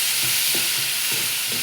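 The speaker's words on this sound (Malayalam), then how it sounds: "ഇപ്പോൾ നമുക്ക് തക്കാളി ഇട്ട് കൊടുക്കാം കേട്ടോ. ഒന്ന് വഴറ്റിയെടുക്കാം നമുക്ക്." Tomatoes sauté in a hot pan for vegetable breakfast noodles, giving a continuous close sizzle broken by soft scraping stirs of a spoon.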